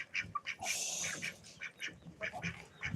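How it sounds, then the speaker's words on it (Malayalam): A duck quacks repeatedly in loud, close, uneven bursts, with chirping chicks and other farmyard birds calling around it. "ഇത് താറാവാണ്"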